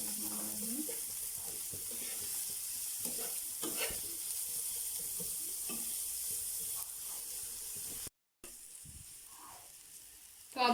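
Onions frying in ginger garlic paste in a pan, a faint steady sizzle with occasional stirring scrapes, heard close but quiet, with a brief dropout near the end.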